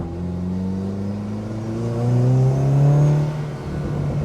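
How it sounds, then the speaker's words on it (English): A four-wheel-drive Peugeot 206 GTI with an Audi drivetrain and a debaffled charge pipe revs close up, a loud steady engine drone swelling in pitch mid-way and then easing back. "I've debaffled the charge pipe as well, just to get a little bit more noise out of it"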